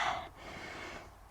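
A single breath during a yoga practice, a soft sharp inhale followed by a longer, gentle airy exhale, close and quiet with no talking.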